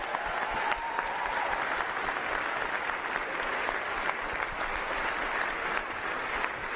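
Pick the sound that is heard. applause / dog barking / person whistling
applause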